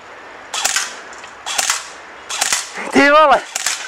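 PJ4 CQB airsoft gun firing in short bursts, sharp cracking shots in three or four quick clusters at close range, with a brief rising whistle-like sound near the end and no talking.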